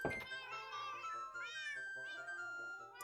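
Several game cats meow in the video game PsiCraft, short tonal mews following one another closely across a few seconds, fairly quiet and with no talking.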